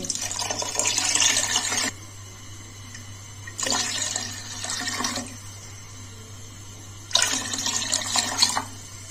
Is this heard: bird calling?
no